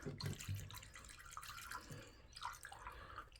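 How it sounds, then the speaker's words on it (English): Water is poured down the drain of a newly installed shower tray, giving a faint, close splashing and trickling with a few gurgles. "I'm really forcing that water down there."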